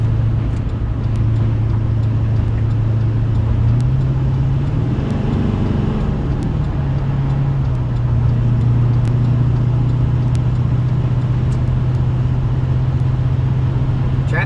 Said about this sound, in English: Traffic ain't too bad today.